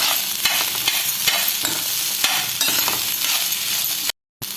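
Cheesy corn being stirred in a pan over a low flame: a steady, close scraping and stirring with a soft sizzle underneath, continuous, then breaking off into a brief moment of silence near the end.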